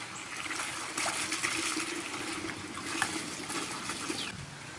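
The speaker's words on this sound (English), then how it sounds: "I'm also dumping it into this trash can because it's very high concentration degreaser" High-concentration degreaser poured from a fuel tank into a trash can, a steady close trickling and splashing of liquid that continues unbroken, with no talking.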